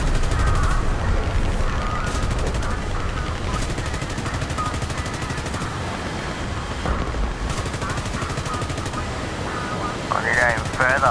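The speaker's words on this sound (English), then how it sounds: "Oh, it's a machine gun." Machine gun fire in War Thunder chatters continuously in fast bursts, loud and close, with battle noise around it and a voice speaking over it.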